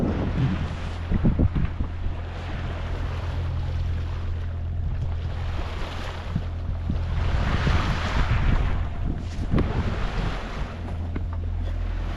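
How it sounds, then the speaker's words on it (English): A sailboat's engine drones steadily on the Tasman Sea in a calm, rolling swell, under heavy wind buffeting the microphone, with water washing and sloshing around the hull throughout. "The engine going."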